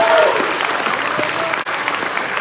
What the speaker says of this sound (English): If we can have another round of applause for those